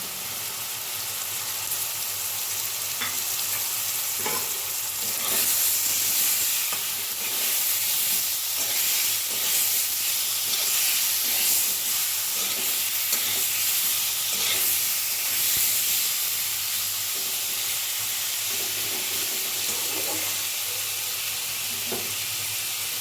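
Tengra fish curry with tomatoes, turmeric and salt sizzles steadily in a pan, a loud continuous frying hiss with occasional crackles and stirring scrapes, no voices.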